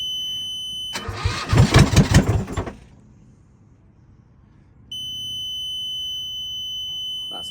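A catamaran's boat engine cranks hard for about two seconds in rapid uneven chugs, nearly catching, then drops to quiet before a steady high electrical whine comes on.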